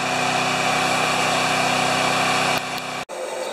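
Small engine of a little green tractor running steadily up close, a constant droning idle that dips briefly and cuts out near the end before resuming.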